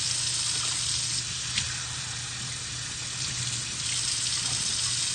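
Water pours steadily into a pot of two cups of rice for cooking, a continuous close hiss with no talk.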